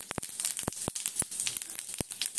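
Cumin seeds sizzling in hot oil, with sharp irregular pops and crackles over a faint hiss, close and fairly quiet.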